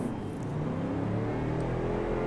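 Car engine in the Assetto Corsa EVO racing video game, a steady droning hum that rises gradually in pitch as the car accelerates, continuous and alone without talk.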